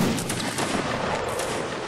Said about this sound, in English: Take aim, and fire at will.